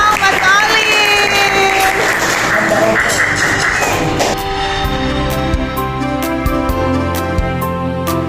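Students in a classroom clap for a classmate, a burst of applause mixed with voices and tonal sounds, the claps growing sharper and more distinct toward the end.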